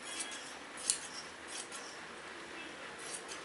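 Scissors snipping through a piece of blouse fabric, a few soft crisp cuts close up, one sharper snip standing out among faint scraping, with no talking.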